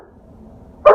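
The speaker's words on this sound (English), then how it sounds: "my dog's going to bark at the other dog" One short, sharp bark from a puppy directed at another dog, loud and near, rising out of a faint quiet background at the very end.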